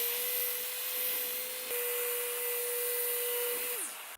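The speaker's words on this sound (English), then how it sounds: "in the ROTEX mode, it is pretty powerful and you do have to hang on" A Festool ROTEX RO 150 FEQ sander runs in ROTEX mode with a steady, loud motor whine and a continuous abrasive hiss, then winds down at the end.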